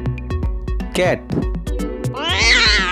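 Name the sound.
cat meowing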